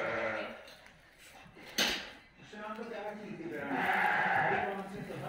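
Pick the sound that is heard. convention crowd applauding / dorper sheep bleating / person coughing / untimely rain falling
dorper sheep bleating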